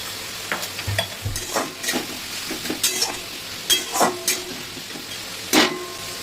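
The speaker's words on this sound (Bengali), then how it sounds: "পেঁয়াজটা একটু লাল লাল করে ভেজে নেব।" Onions fry with a pinch of salt in a pan for mutton curry, giving a faint low sizzle punctuated by sharp scraping stirs and clinks of a spatula at irregular intervals, with no talking.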